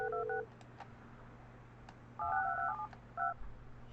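Telephone keypad tones beep in a short dialing sequence in the building-management game Project Highrise, clean electronic tones arriving in quick clusters over a steady low hum.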